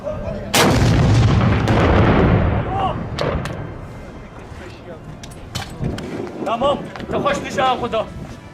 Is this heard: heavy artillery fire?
yes